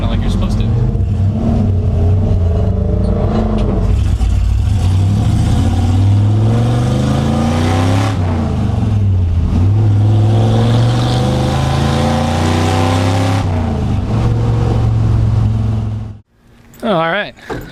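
A Ford F100 pickup with a Tremec 5-speed gearbox revs hard through the gears on a rutted dirt road, the engine note climbing and dropping between shifts, loud and close, then suddenly cutting off.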